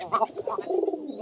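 A pigeon coos close by in a short, soft burst of throaty warbling notes, brief and low in level, with a faint background murmur.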